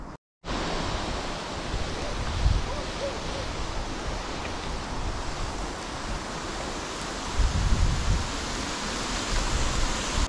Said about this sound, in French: Alors je n'oublie pas le petit arrosage en pluie fine